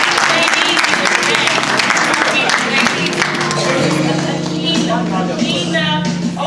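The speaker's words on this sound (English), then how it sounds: "Give her a round of applause" Audience at a family summit event clapping: steady crowd applause throughout, fairly loud, with a voice and some background music or hum running underneath.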